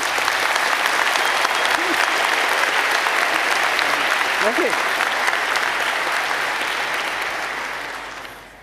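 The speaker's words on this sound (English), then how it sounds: "please give a very warm applause to Stefan Burschka." Sustained applause from a large conference audience at a hacker congress, steady and full for about eight seconds before tapering off, with a brief spoken thanks near the end.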